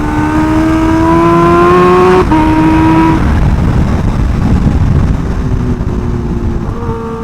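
A Kawasaki Ninja H2R motorcycle roars loudly and close, its engine pitch climbing steadily through the gears, with a brief break as it shifts before pulling on again.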